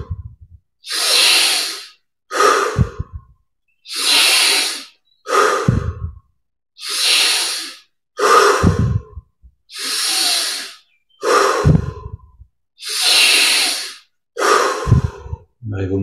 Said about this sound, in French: on augmente un petit peu l'amplitude des respirations